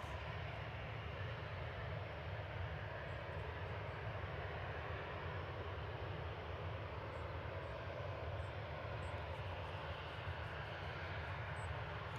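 Ryanair Boeing 737-800 jet departing runway 23 left at Manchester Airport, a steady broadband engine roar heard from a distance, constant and even throughout without voices.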